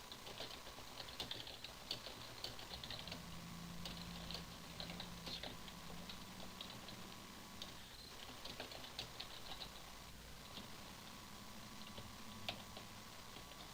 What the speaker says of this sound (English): Type in the rest of the question.